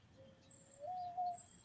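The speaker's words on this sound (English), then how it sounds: "That's an owl." An owl gives one soft, drawn-out hoot that rises slightly and holds, faint and distant in a quiet, cold outdoor setting, with a few high faint chirps around it.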